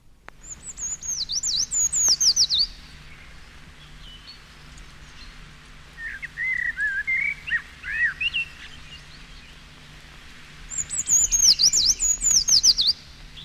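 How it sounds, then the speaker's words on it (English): Thin high treecreeper notes end in a quick trilling flourish and repeat several times, with a lower fluting blackbird song in between. Both birds sound close and clear in woodland. "The tree creeper's song, heard here with that of a blackbird"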